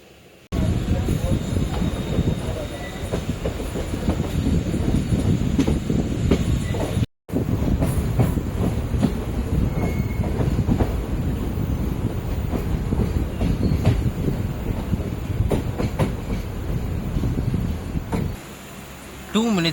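A passenger train between Tindivanam, Villupuram and Pondicherry rolls along the rails with a steady rumbling clatter, close and continuous, briefly cutting out partway before resuming and easing near the end.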